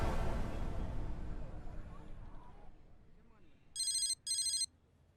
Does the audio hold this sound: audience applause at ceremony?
no